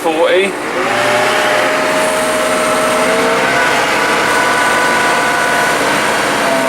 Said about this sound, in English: Just going to put the PTO on, give it some revs, get it on 540.